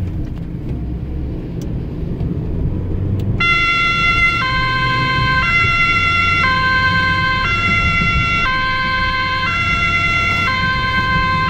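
An ambulance siren carrying a premature newborn starts after a few seconds of road rumble, a loud close two-tone wail alternating steadily over continuous engine and traffic noise.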